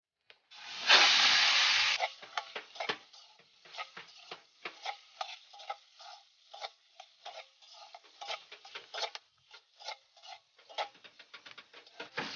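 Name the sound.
pork belly (kasim) frying in oil until crispy and brown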